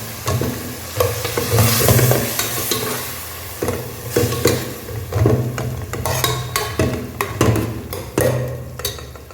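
Ingredients for kushka biryani fry in a pot while being stirred, with loud bursts of sizzling and scraping strokes of a spoon against the metal, close up, between quieter pauses.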